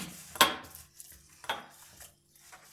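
A metal spoon picked up and clinking against dishes during homemade mulberry ice cream making, two sharp clinks followed by lighter taps, close and alone.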